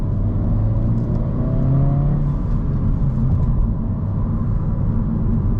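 A 2023 Honda Civic Si accelerating on the road, its engine note rising and pulling hard with a droning rumble, heard close from inside the car with no talking.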